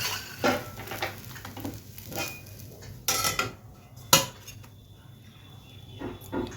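Sponge dosa lifted off the pan onto a plate, with a few sharp clinks and clatters of dishes and metal utensils over a quiet kitchen background, the loudest knock near the end.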